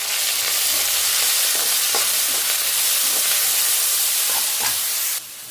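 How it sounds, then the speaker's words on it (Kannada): Onion roasting in a pan for chutney powder, a loud continuous sizzle and hiss with scattered soft stirring scrapes, dropping off abruptly at the very end. "ಈರುಳ್ಳಿ ಚೆನ್ನಾಗಿ ರೋಸ್ಟ್ ಆಗಿದೆ"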